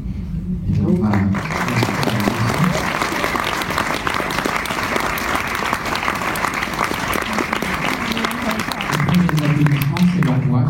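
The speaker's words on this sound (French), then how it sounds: "Ça fait chaud au cœur d'entendre les applaudissements." Audience applause at a film premiere in a theatre, a dense, steady clapping that fills the room for about eleven seconds, with some voices and cheers mixed in near the start and end.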